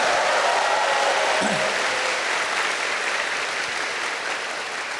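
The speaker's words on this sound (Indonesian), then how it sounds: "Kita berikan aplaus yang meriah untuk Universitas Terbuka." A large audience claps steadily and loudly for Universitas Terbuka at a televised talk-show taping, a dense sustained applause without a break and slowly fading a little toward the end.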